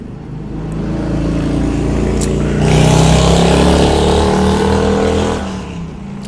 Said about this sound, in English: I wonder how loud that is for you guys. The traffic below me.